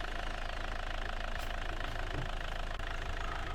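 A custom physics vehicle's simulated engine in a video game hums at a steady idle, a continuous low droning rumble with a faint knocking texture and no talk over it.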